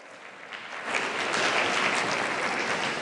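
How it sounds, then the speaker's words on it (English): Audience applause at a showjumping roadshow fills the space, a dense wash of clapping that swells after the first second and holds steady and loud without a break. "Give him a round of applause."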